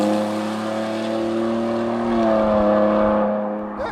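A 2022 Ford F-150 fitted with a Borla Atak exhaust drones steadily on the road, a loud, continuous low engine note with a slight swell in pitch midway, heard from inside without talk.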